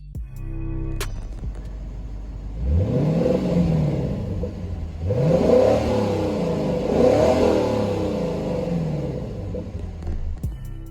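A Maserati sports car engine revs hard three times in succession, each burst rising into a loud, throaty exhaust roar before dropping back to a rumbling idle.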